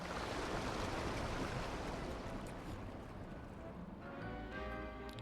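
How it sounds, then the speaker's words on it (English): Water drains away into sewers in the Pokémon Legends: Z-A video game, a steady rushing, gurgling wash that fills the scene and thins slightly near the end, with no talking. "Look, all the water's draining through the sewers."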